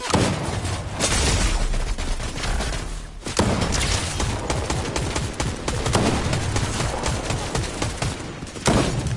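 Rapid bursts of video game gunfire crackle loudly and densely, with a brief pause near the middle before the shooting resumes, dominating the mix with little talk audible.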